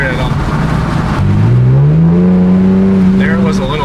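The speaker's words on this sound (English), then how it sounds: "you just hear a little whisper of that turbo spool, but then it just turns on to exhaust" An Infiniti car being built toward 500 horsepower accelerates nearby, a faint turbo whisper giving way to a loud exhaust note that climbs steadily in pitch and then holds near the end.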